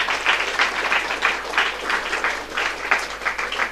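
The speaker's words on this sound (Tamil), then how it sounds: "அவருக்கு ஒரு நல்ல கைத்தட்டு கொடுக்கணும்" Audience applause at a temple consecration ceremony with a spiritual discourse, a steady sustained wash of many hands clapping together, fairly close and full, with no talk over it.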